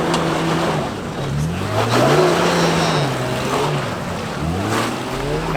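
A 4WD grinds up a rough off-road track under steady throttle, its engine note rising and falling as it keeps momentum, loud and close throughout with continuous rumble and wheel noise.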